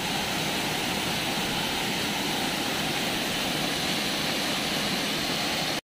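Bangka Bangka waterfall in Pagbilao, Quezon pours in a steady, dense roar, loud and close, holding unbroken from start to finish with no voices.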